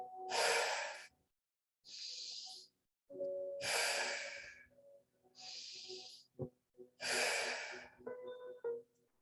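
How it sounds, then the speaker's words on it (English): A person doing a deep breathing exercise takes slow, forceful breaths, three long inhale-and-exhale cycles with pauses between them, close and clear with no talking. "So just continuing to take those halo active breaths."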